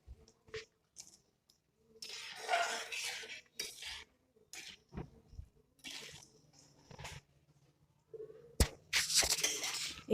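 Fish curry with drumsticks stirred in a pot after hot water is added, intermittent bursts of scraping and clattering utensil-on-pot sounds with quiet pauses between them.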